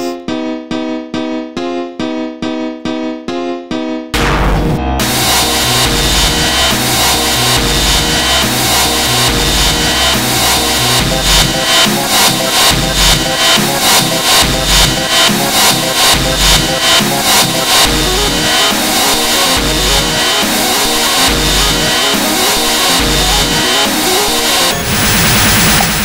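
Loud dubstep chords produced in FL Studio, with a few sharp stabbed chords first, then a dense, heavily limited wall of pulsing synth chords and thumping bass that runs to the end, no voice.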